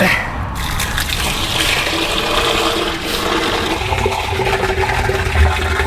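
Water gushes and sloshes loudly in a continuous turbulent rush at a farmhouse back porch build, close and noisy throughout, with a brief shout near the start.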